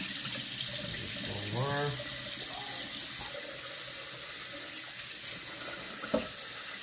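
Kitchen tap water runs into a bowl while white rice is rinsed by hand, a steady close splashing stream with a brief spoken word early on.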